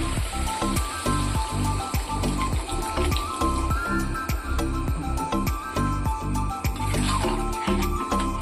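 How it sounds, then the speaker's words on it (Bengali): A small splash of water goes into a hot pan of chili chicken, giving a close, crackling sizzle with rapid irregular pops and spatters that continue steadily throughout. "অল্প পরিমাণ জল দেব।"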